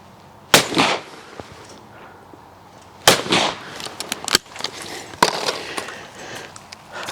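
A side-by-side shotgun firing cartridges: loud close blasts, several sharp reports separated by pauses, followed by brief clicks and clatter of the action between shots.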